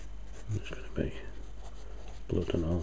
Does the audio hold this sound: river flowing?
no